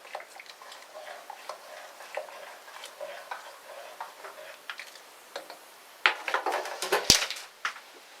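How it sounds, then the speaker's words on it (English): Alum being stirred into a natural dye pot of beech conk, a run of light irregular clinks and taps from the stirring utensil against the pot, soft at first and then louder and busier toward the end. "and give it a stir."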